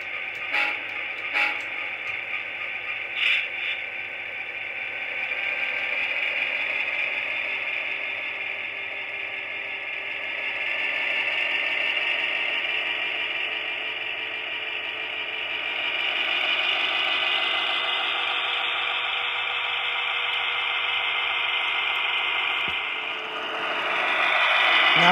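An Atlas HO-scale GP38 model locomotive whirs steadily along the track with a continuous mechanical hum, a few light clicks at the start and a soft clunk near the end as it couples to a refrigerator car.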